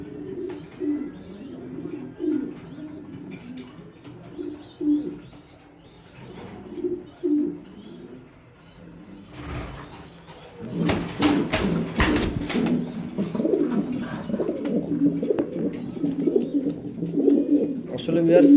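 Pigeons coo in a loft in Mirpur, Dhaka, a low steady murmur of overlapping calls that grows louder and busier in the second half, with bursts of rustling and wing flaps nearby.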